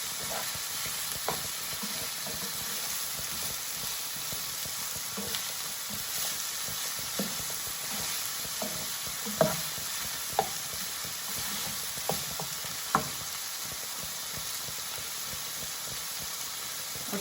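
Chicken and mixed vegetables frying together in a pan for chatpati macaroni: a steady close sizzle with scattered scraping and clinking stirring strokes through it, and no talking.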